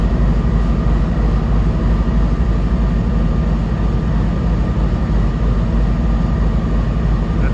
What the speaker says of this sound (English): Weird hearing a diesel locomotive at Penn Station.